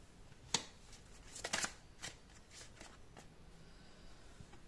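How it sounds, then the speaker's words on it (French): Tarot cards are drawn from a deck up close: a quiet series of soft snapping flicks and papery rustles, some clustered together, then fading to light shuffling. "je vais prendre 3 cartes avec ce joli tarot"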